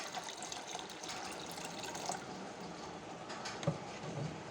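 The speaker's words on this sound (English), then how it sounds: "and fill it with water." Water runs from a tap into a pot being filled, a soft continuous pouring and splashing with small drips, fairly quiet and close, with no talk over it.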